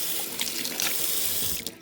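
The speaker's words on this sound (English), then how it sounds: "fill it up with water" Water from a tap runs steadily into a stainless steel sink, giving a loud, close, continuous splashing rush that holds level throughout with no talking.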